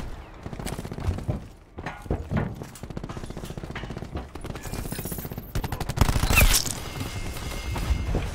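Automatic gunfire in Call of Duty Black Ops 4 multiplayer chatters in rapid bursts throughout, with dense overlapping shots and a louder burst of fire and impacts near the end.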